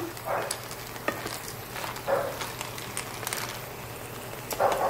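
Clams with malunggay cooking in a pan, a steady close sizzle broken by a few stirring scrapes and soft clinks, with no talking.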